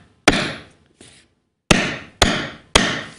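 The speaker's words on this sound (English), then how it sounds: "So we're hammering all the sides." Hammer blows driving a grommet into greenhouse plastic sheeting: five sharp, close, loud strikes in an uneven rhythm, one of them lighter, each ringing briefly before the next.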